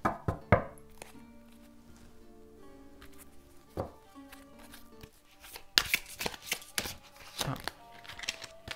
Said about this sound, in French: Les cartes sortent.